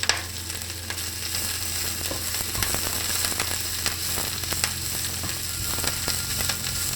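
Vegetables frying in hot oil give a steady, close sizzle with scattered pops and crackles, continuous and fairly loud throughout.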